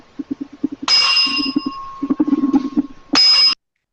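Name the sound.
bell being tapped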